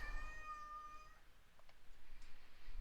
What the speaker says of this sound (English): Sorry, I have a cat that's being dumb.